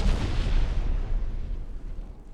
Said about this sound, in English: You just fired your torpedoes